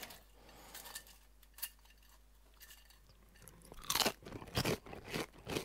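A crispy crepe with apple syrup and lemon zest is bitten and chewed, giving a few sharp, close crunches amid quiet cutlery and plate clinks, with louder crunching bursts near the end.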